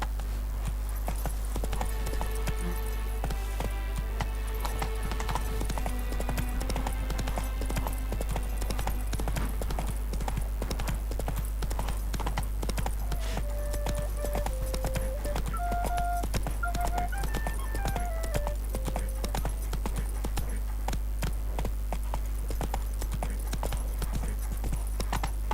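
Roach the horse gallops in The Witcher 3, a steady fast clip-clop of hooves that runs continuously under game music and ambience, with a brief whinny.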